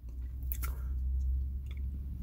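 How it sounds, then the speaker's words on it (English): Gum is chewed close to the mouth, giving soft, wet, rhythmic smacking and squishing sounds over a low background hum. "I'm chewing a gum right now"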